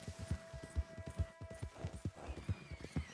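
Horse galloping through a forest in the video game Red Dead Redemption 2, a steady rapid clip-clop of hooves, moderately close and rhythmic, with faint game ambience behind.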